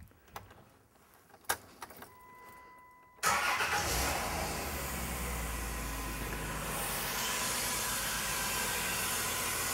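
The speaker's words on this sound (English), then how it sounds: "Now the next step is to start the engine" A car engine cranks after a few faint clicks and fumbling sounds, catches at about three seconds and then holds a steady, even idle close by for the rest of the clip.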